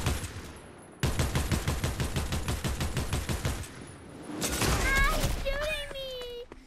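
Fortnite gameplay gunfire comes as a rapid string of sharp repeated shots for a few seconds, then a burst of louder blasts and game effects, with a voice heard in between.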